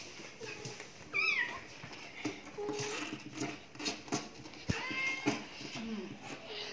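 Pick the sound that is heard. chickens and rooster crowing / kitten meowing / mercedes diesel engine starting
kitten meowing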